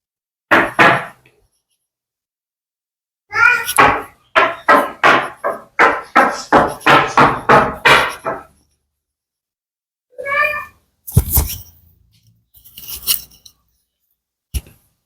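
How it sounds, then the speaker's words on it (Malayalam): A scrubber rubbed hard across a gas stove, with rapid rhythmic rasping strokes in short bursts and gaps, plus a few scraping clatters near the end. "ഇതുപോലുള്ള ഒരു സ്ക്രബ്ബർ എടുത്തിട്ട് നന്നായിട്ടൊന്ന് ഉരച്ചു കൊടുക്കണം"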